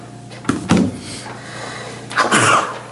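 A sharp sneeze bursts out, followed a moment later by another loud breathy burst, in a quiet room with a faint electrical hum.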